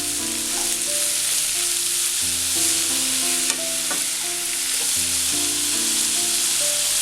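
Lemons fry in oil for a Kerala lemon pickle, giving a loud, continuous sizzle with occasional stirring scrapes, heard under steady background music.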